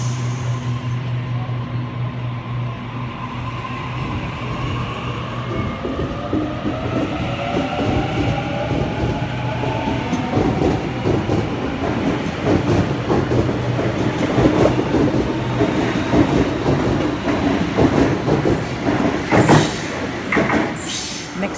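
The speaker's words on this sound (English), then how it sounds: "We have a Tangara arriving onto platform number 1, Penrith service." A Sydney Trains Tangara rolls into a platform at Cheltenham station at night, a rising rumble with rhythmic wheel clatter and faint squeals that grows louder as it draws close, with a brief sharp click near the end.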